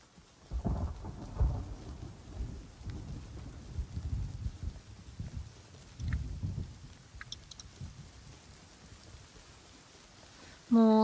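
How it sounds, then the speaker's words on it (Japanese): Rain and rolling thunder in the Rust survival video game, a steady hiss of rain with low rumbling thunder swelling and fading throughout, a few faint clicks, and a brief louder burst at the end. "雨だし、雷だし。"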